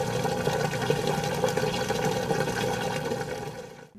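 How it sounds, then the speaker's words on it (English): Whirlpool high-efficiency top load washer draining its wash water through the drain hose, a steady rushing, gurgling hum with a pump drone that continues evenly before cutting off at the end. "The wash water will empty through the drain hose at the back of the washer. Let's listen to normal drain sounds."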